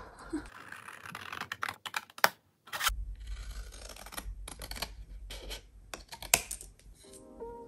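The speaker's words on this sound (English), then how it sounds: "now I just need to cut along those lines and hope for the best" Paper being cut along drawn lines with scissors for a junk journal, close up: a run of crisp snips and slicing strokes with brief pauses, plus rustling and handling of the sheet, with no talking.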